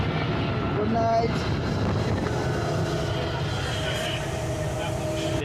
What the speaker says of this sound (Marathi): देख सकते हैं ट्रेन खचाखच भरी हुई है